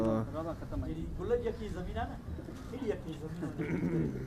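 Pigeons coo softly in low, rolling bursts, with several birds overlapping close by and a faint background murmur.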